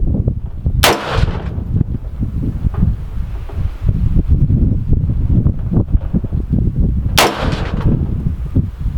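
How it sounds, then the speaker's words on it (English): Two sharp, loud long-range rifle shots ring out about six seconds apart, each with a brief rolling echo, against steady outdoor wind noise. "I'm going to shoot 3 more and see if the left to right is consistent"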